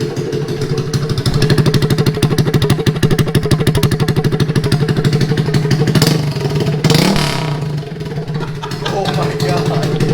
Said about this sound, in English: Do you want to start it up without the muffler on?